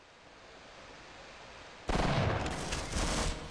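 Gunfire in the video game Half-Life: a quiet stretch ends in a sudden loud burst of rapid shots that flares up once more before it fades.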